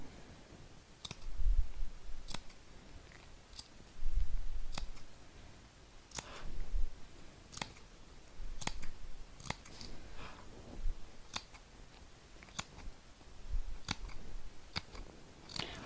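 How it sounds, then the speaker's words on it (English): Scissors snipping into a fabric seam allowance while sewing a piped pocket tote, a steady run of about a dozen sharp, close clicks at regular intervals over a quiet background. "And then I can just snip into my seam allowance here"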